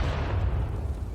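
A grenade detonates in Counter-Strike during a professional IEM Katowice 2023 match, a deep, rumbling boom that fills the whole short moment with heavy low-end roar and no voices.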